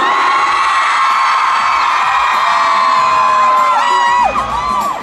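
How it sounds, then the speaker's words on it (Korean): A concert audience roars, shouts and cheers on cue at a special open-air concert broadcast, a sustained dense wall of crowd noise with high whoops and screams rising near the end. "즐길 준비가 됐다면 큰 함성을 질러봅시다"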